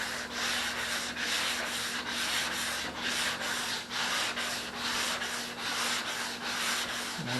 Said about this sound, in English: You always want to sand on your 45-degree angles